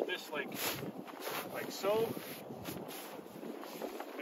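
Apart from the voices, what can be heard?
wind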